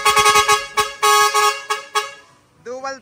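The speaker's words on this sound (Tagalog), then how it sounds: "Busina, sound check na natin, Andy." Horn blasts from a car with added dual trumpet horns, a series of loud, short honks in a quick irregular rhythm, then a pause and one last separate tone.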